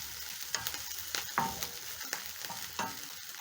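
White onions fry in hot oil for a fish stew, giving a steady close sizzle punctuated by several sharp crackles and stirring scrapes of a utensil against the pot.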